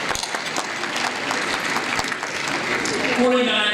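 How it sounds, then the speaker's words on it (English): Crowd applause at an annual organisation's anniversary event, sustained and fairly loud, with a speaker's voice carrying over the clapping. "Let's give each other a applause."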